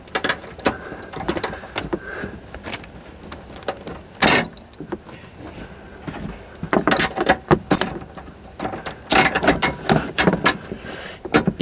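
Bolts being given their final tightening on a rear cross strut bar on a Subaru WRX, with repeated metallic clicks and ratcheting bursts, close and fairly loud, no talk.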